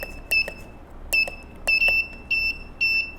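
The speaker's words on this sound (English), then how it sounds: "The red light will turn on and the buzzer will beep." Sharp electronic buzzer beeps from an Arduino keypad door lock after a wrong password sound in five short bursts, some doubled, each preceded by a click, over quiet background.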